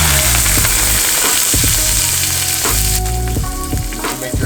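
A barramundi (sea bass) fillet, patted dry, fries skin side down in a hot pan, giving a loud, dense, continuous sizzle with crackling pops and a few low knocks, close up, with no talking.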